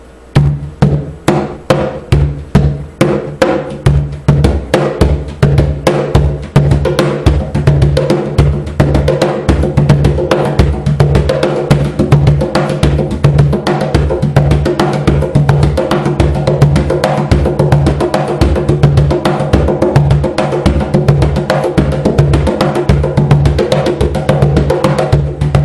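A cajon struck with bass and low tones played together in a steady, driving pattern, deep booming thumps alternating with sharper slaps, loud and close, continuing without pause.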